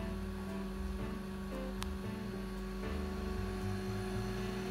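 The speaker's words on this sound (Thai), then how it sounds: "นี่คือเสียงคอมเพรสเซอร์ทำงานนะครับ" A compressor runs inside a portable AC/DC camping car fridge that cools to minus 20 degrees, giving a steady, close, even electrical hum with a constant tonal drone and no pauses.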